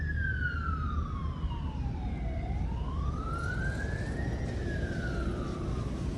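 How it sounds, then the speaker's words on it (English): An ambulance siren wails past, its pitch sweeping down then rising again over steady traffic rumble, moderately distant and continuous. "That was an ambulance going past."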